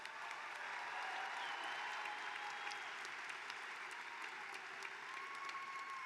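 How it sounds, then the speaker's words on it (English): Steady applause fills a commencement ceremony for graduates, a large standing crowd clapping continuously and evenly, moderately distant, with no talk over it. "let's get another round of applause for these great graduates"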